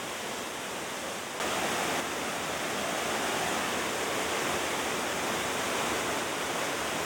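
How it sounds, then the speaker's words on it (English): Waterfalls below a small bridge in Glencoe give a constant, even rush of falling water. The roar is broad and unbroken, with no voices. "I noticed a series of attractive waterfalls down below"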